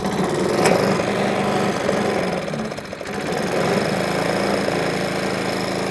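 A vintage Atco lawn mower engine, long stored and leaking oil, runs steadily with a rough, knocking idle, the throttle nudged up partway through; the continuous mechanical drone stays close and fairly loud with no talk over it.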